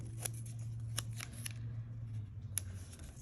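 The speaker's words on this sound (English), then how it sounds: "I'm going to rip off another piece" A piece of tape is ripped off the roll in several quick, faint tearing snaps over a steady low hum, with no talking.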